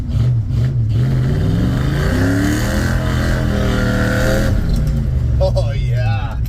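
Ford F100 truck engine after carburetor tuning, loud and close, revving up and down in a few rising and falling sweeps before settling, with someone talking over it.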